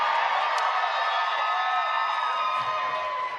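Comedy show audience cheering and whooping for Katya, a bright, sustained roar of many voices with sharp whoops rising through it, loud and continuous across the moment.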